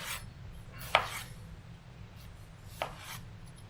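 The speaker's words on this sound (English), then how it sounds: "So I'm just going to dice this up. Nice little diced tomatoes here." Knife dicing tomatoes on a board: two sharp chopping knocks about two seconds apart, close and crisp, with quiet room hum between and no talking.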